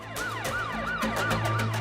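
An ambulance arriving at an emergency scene, its siren wailing in a steady rising-and-falling sweep, loud and close over a low engine rumble, with no voices.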